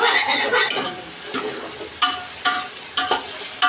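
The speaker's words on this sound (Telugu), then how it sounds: "ఇప్పుడు ఒకసారి కలుపుకుందామండి వేగిందో లేదో" Tomatoes frying in a pan as they are stirred, a bright sizzle punctuated by repeated scraping strokes of a spoon against the metal, close and fairly loud.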